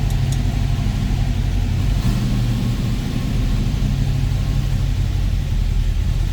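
A 1968 Ford Mustang engine runs with a deep, steady rumble close by, idling roughly with slight fluctuations and no talking.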